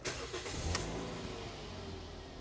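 A 2007 Toyota Yaris S automatic starting up: a brief starter crank and catch near the start, then a quiet, steady idle hum that carries on alone.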